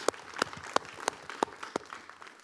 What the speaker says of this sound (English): Let's give one big round of applause for the judges tonight.